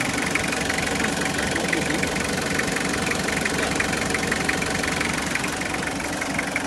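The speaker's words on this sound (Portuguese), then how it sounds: "E o motor tá sereninho" A Chevrolet S10 engine idles smoothly and steadily, a close, even mechanical hum with a light ticking texture running throughout, with no one talking.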